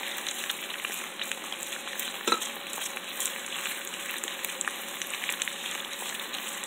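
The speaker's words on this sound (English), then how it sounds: "Now I'm adding the chili flakes." Chili flakes sizzling in hot garlic oil, a dense, even crackling fry held close and steady throughout, with one brief louder spit midway and no talking.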